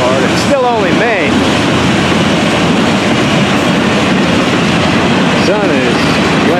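A long Florida East Coast freight train with auto racks rolls past close by on a hot summer day in Central Florida. It makes a loud, continuous rumble with rhythmic clickety-clack from the wheels and a few brief wheel squeals.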